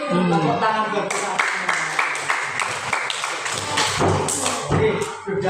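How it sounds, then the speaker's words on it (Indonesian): A classroom group claps hands in a quick rhythmic pattern, fairly loud and close, with children's voices mixed through the clapping. "Tepuk tangan buat kita."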